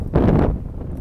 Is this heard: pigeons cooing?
no